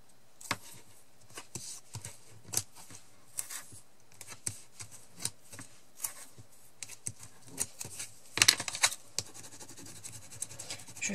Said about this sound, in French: je vais mettre du double face dessus